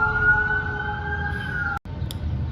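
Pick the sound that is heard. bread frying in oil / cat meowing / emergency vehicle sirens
emergency vehicle sirens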